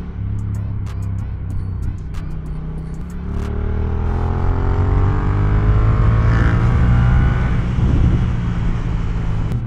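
A Yamaha R7 sport motorcycle engine revs and roars loudly and continuously, its pitch climbing through gears as it accelerates, with a steady rushing drone throughout and no talking.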